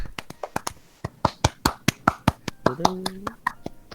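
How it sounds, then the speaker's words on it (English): A person claps their hands in a quick, fairly even series of sharp, close claps, and a brief voice-like tone rises partway through. "I'm clapping. I don't know if you could hear it."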